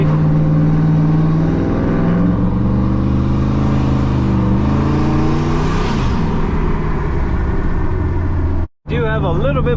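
A turbocharged GMC truck rolls along on a new set of wheels with a more aggressive offset, its steady engine drone and road hum running loud throughout beneath a person talking, with a brief dropout near the end.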